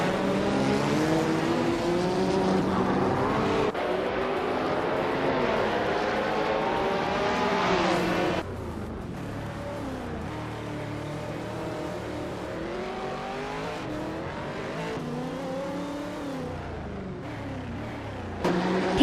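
Race car engines in a video game race, including a 1989 Audi 90 IMSA GTO, roar loudly and steadily, with rising and falling tones as the cars accelerate and shift. The noise drops in level partway through and continues alone.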